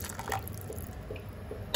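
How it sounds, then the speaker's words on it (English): Thin coconut milk pours into a pot of Goan red snapper fish curry, a short close liquid trickle and drip with a brief clink at the end. "So first we are going to add in the thin coconut milk."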